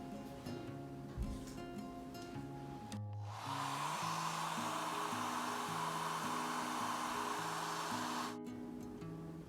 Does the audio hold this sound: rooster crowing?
no